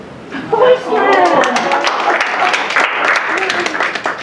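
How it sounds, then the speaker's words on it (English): Applause breaks out from a small photo class audience, with a chuckle and overlapping talk mixed into the clapping, which stays moderately loud and close. "let's give it a round of applause to our master photographer"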